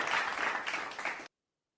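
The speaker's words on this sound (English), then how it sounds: "I just got to give an applause for America right now" A crowd applauds steadily for just over a second, dense clapping that cuts off abruptly into silence.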